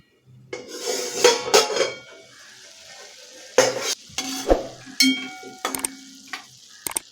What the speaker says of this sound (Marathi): तीन ते चार मिनिट झाले आहेत झाकण काढते